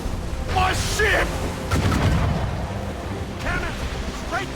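Booming ship cannon blasts in Assassin's Creed Rogue, with crackling bursts, several heavy shots spread across the clip amid chaotic game sound.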